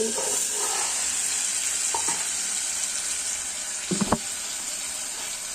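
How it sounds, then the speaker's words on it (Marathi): Tadka tempering sizzling as it is poured into a pot of moong dal varan, a steady bright hiss with a few soft knocks and a short burst of crackle near the end. "हे पहा आता आपण तडका टाकून घेतो"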